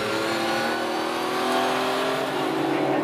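Supercar Challenge race cars, including a Porsche, accelerate hard off the start at Brands Hatch toward Paddock Hill Bend, a loud sustained engine roar that swells slightly as the pack pulls away.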